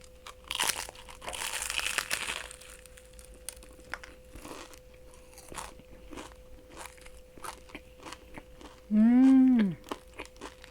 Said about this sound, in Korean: 그 다음은 뱅 스위스. 이거 먼저 먹을게요.